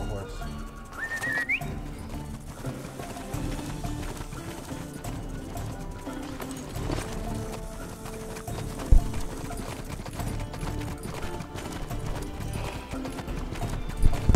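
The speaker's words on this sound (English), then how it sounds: "Let me get back on my horse." Steady clip-clop of a horse's hooves in a video game (Six Guns) runs throughout over a busy, dense background, with a short whistle near the start.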